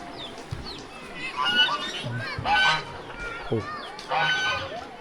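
Several geese honk repeatedly nearby at a village riverside, their calls rising in bursts over a soft outdoor background with some low murmuring.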